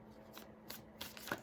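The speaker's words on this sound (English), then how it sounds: "I'm just going to shuffle." Tarot cards are shuffled in a few soft, quick papery riffles and slides, quiet and close, with short bursts spaced through a brief moment and no talking.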